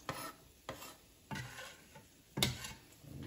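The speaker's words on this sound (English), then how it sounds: "Saute it up." Chopped onions sauté in a pan for meatloaf, heard as four distinct scraping stirs at a steady rhythm over a quiet, faint sizzle.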